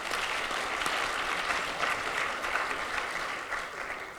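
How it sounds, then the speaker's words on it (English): A summit audience gives applause for its sponsors, a dense, even wash of clapping from many hands heard at moderate distance, sustained for a few seconds. "a round of applause for our sponsors"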